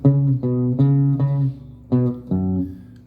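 A plucked guitar riff of short notes in a steady rhythm, with a brief gap before the last few notes, played alone and close.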